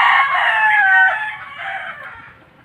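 A Sweater brood stag gamefowl rooster crows once, loud and close, a single drawn-out call that fades toward the end.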